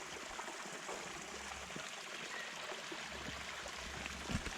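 Water trickles quietly from the pits of a disused mine at Brukunga, a soft continuous babble with occasional faint drips over low outdoor background noise.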